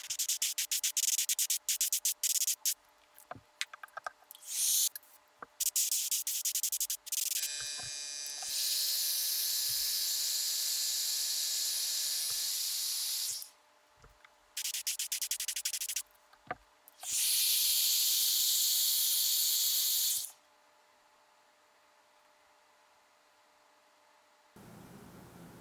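An airbrush or spray gun lays white base coat primer on a handmade wooden crankbait lure, hissing in several long, steady bursts separated by short pauses and lighter clicks, with a quiet tail at the end.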